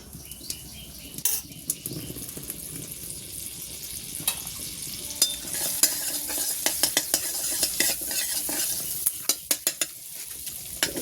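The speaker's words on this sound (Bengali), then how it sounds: "ততক্ষণে আমি ডিমগুলো ভেজে নেব ডিমগুলো মাখনেই ভাজা করব" Eggs frying in butter in a pan, a steady close sizzle with scattered sharp utensil clicks and scrapes as the mixture is stirred, no voices.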